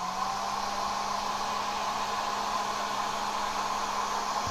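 A hair dryer blowing steadily to dry watercolor paint, a constant close whooshing hiss with a low hum, unchanging throughout, no talking.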